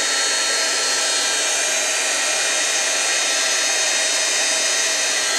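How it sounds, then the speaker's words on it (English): A heat gun blasts a loud, steady rush of hot air over embossing powder on tissue paper, a continuous close whooshing hiss with no break and no voices. "then I'll take my heat gun and heat it all up"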